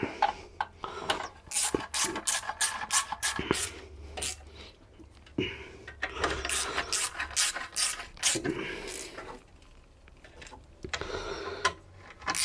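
A ratchet tightens the cylinder head bolts on a TU3JP engine during a head gasket replacement, giving repeated close, rhythmic clicking bursts with short pauses between strokes.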